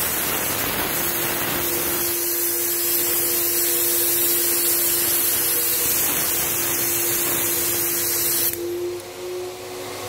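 A Graco 9.5 Pro Contractor HVLP Edge 2 Plus spray gun sprays paint in a loud, steady, close airy hiss for about eight seconds, then the spray cuts off abruptly, leaving a softer turbine hum.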